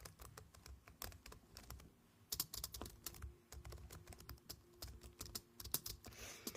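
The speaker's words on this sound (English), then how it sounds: "so I'm just going to do a bit of typing." Close, crisp typing on a computer keyboard in a quiet room during a soft-spoken mock medical check-up, with irregular bursts of key clicks and brief pauses.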